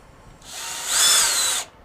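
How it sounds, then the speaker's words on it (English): A loud power drill whirs once, building up and holding for about a second before stopping, while a Pikatea KP69 keyboard is being built. "because this drill is very loud"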